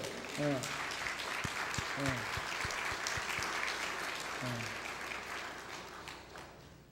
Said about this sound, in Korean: 저 우리 신용도 형제님 박수 한번 쳐주세요